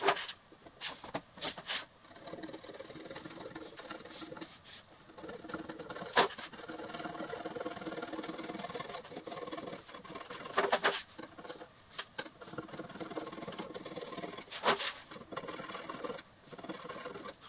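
A scraper blade is drawn by hand across the metal of a minilathe, giving short scratchy strokes in an irregular rhythm with a few louder scrapes, close by and with no talking.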